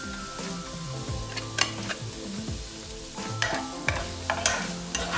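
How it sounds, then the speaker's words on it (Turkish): Green and dry onions fry in about three tablespoons of olive oil in a heated pan, a gentle sizzle under repeated spoon scrapes and clinks as they are stirred, with low background tones throughout. "ısınmış olan tavamıza yaklaşık 3 yemek kaşığı zeytinyağı koyduk. Şimdi arkasından yeşil soğanlar, kuru soğanlar,"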